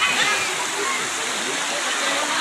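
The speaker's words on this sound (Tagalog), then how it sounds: "Pumunta tayo dito sa ilog ng Kalantas." The clear Kalantas river flows with a steady rushing, splashing wash of water, continuous and fairly close, with faint voices mixed in beneath it.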